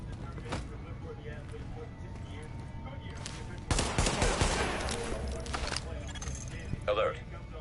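Gunfire in The Division video game, a sudden dense burst of rapid shots and impacts erupting midway over a low ambient bed, with a voice speaking faintly beneath.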